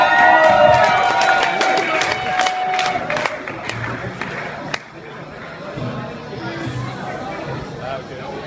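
A concert crowd at the Emergenza band contest in Lido Berlin greets a band with loud applause, cheering and shouts, fading to steady chatter and clapping by the end.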